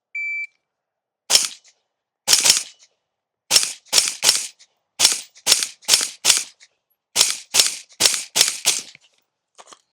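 Suppressed 5.56 rifle shots fire in a quick string of about fifteen sharp cracks, some in close pairs, each followed by a short decaying report, outdoors with no talking; a brief electronic beep comes first.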